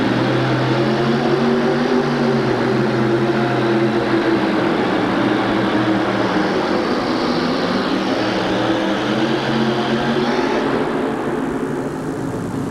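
A pulling tractor's engine roars loudly and continuously as it strains down a dirt track at a 1987 USHRA event in Houston, a heavy droning rumble with layered engine tones that shift in pitch near the end.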